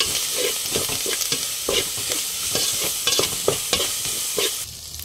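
Curry leaves, coriander and green chillies sauté in a pan with a bright sizzle, while a spoon scrapes and stirs in quick, repeated strokes close by.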